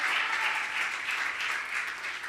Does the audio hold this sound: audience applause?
yes